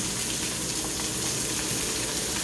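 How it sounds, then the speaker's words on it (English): A salmon fillet sears in a hot frying pan, giving a steady, close sizzle and hiss that holds evenly throughout with no voices. "This will take about 3 to 4 minutes to get a nice sear on the salmon"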